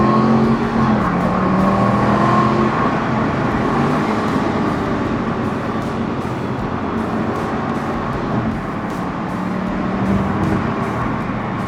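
A 2015 Aston Martin Vantage convertible's 420 hp V8 roars steadily from inside the car, with pitch shifts as it revs on downshifts and changes gear under road noise.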